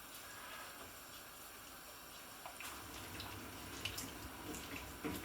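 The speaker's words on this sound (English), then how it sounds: "And then I'm going to rinse the tin, about half the tin of water." Tap water runs into a tomato tin to rinse it while cooking, a steady close hiss of flowing water that grows slightly louder and splashier toward the end, no talk.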